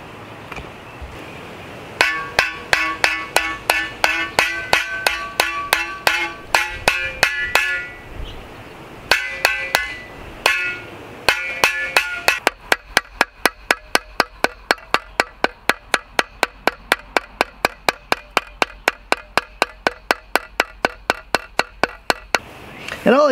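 A broad hammer strikes a blade edge held on a narrow anvil, peening it in a long run of ringing metallic blows. The strikes start in quick uneven bursts, then settle into a steady, rapid rhythm.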